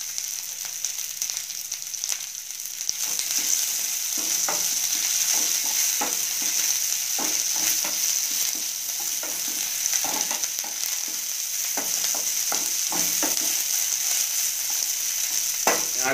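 Okra frying in oil in a pan gives a constant loud sizzle, broken by repeated scraping strokes as a spatula stirs it.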